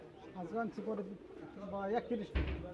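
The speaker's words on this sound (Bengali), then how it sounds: "আজকে সাদেক ভাই মাসাল অনেক সুন্দর কিছু কবুতর নিয়ে আসছেন" Pigeons coo softly amid a busy pigeon market in Sarulia, Bangladesh, with people talking nearby throughout and a brief clatter near the end.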